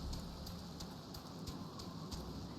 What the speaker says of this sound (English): And of course it's raining in Drybone.